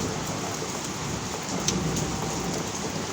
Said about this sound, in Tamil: பாருங்க இடி சவுண்ட் கேட்குதுங்களா? செம்மையாக இடி, செம்மையாக மழை தெறிக்குது.